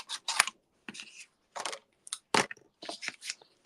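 Short, sharp cutting snips and crunches of paper being trimmed to fit a mini die-cut and emboss machine come in close, uneven bursts separated by quiet gaps.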